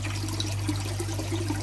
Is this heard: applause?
no